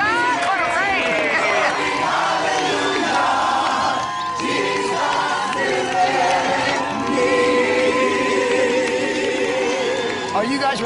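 A big outdoor crowd cheers, whoops and claps at a home makeover reveal after rain, a loud, dense roar that holds steady with shouting voices mixed in throughout.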